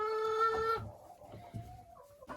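A hen clucks in a nest box with an entrance hole, a sustained drawn-out call followed by softer, lower clucks close by.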